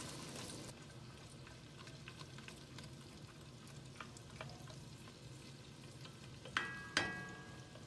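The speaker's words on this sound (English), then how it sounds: "So we cook this for about 15 minutes or until the onions and garlic start to caramelize" Carrots, onions and garlic sautéing in a pan, a soft continuous sizzle and crackle with occasional stirring scrapes and a couple of sharper clinks near the end.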